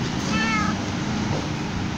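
A cat in the video game Minecraft meows once, a short clear call heard over steady background noise with no talking.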